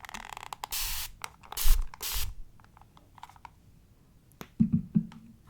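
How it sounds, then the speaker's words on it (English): A few short hissing bursts of a spray bottle, fairly close, followed by quieter clicks and handling noises. "So I'm going to go ahead and spray you."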